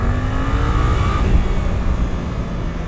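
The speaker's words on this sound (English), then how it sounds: "so 40 to 60, this is that grunt I was talking about." 2024 Suzuki GSX-8R motorcycle doing a throttle roll-on from 40 mph, a steady rising engine drone mixed with heavy wind rush, loud and close, with no talk.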